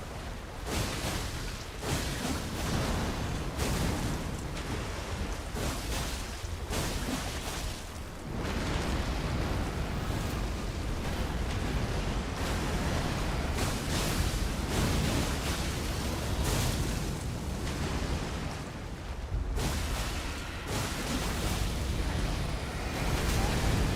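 Sustained, loud rumbling blasts roll on without pause through a video game battle, a dense wall of booming explosion noise with no voices over it.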